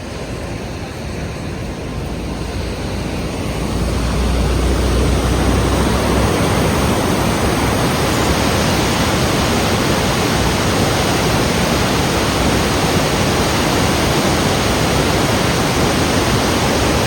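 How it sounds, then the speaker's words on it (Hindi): River water rushes beneath the Manjhi bridge over the Manjhi stream, a dense, steady roar of flowing water that swells within the first few seconds and then holds loud and constant, with no voices. "पानी का बहाव बढ़ गया है थोड़ा।"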